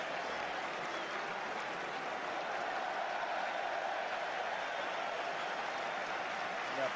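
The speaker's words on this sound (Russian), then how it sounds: "похоже, аплодируют возвращению Туре" Football stadium crowd at an Arsenal versus Liverpool match applauds, a broad, distant wash of clapping and crowd noise sustained evenly for several seconds.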